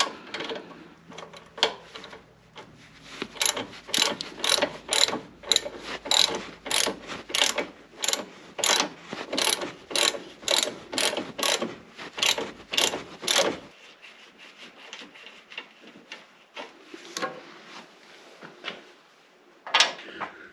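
A wrench ratchets a 15 mm nut off the sway bar of a 2009 Jeep JK, a rapid run of sharp, close clicks in quick bursts, then quieter scattered clicks and clanks.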